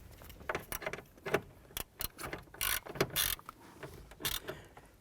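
Small screws being lightly snugged down on a 1993-1997 Ford Ranger headlight switch, a close series of short ratcheting clicks and metallic rattles in uneven bursts.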